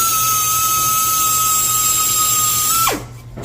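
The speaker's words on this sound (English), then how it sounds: "I'm going to have to ream them with this reamer and my hand drill." A hand drill drives a reamer through valve guides in a Pontiac cylinder head, giving a steady high-pitched whine for about three seconds before winding down sharply and falling quiet.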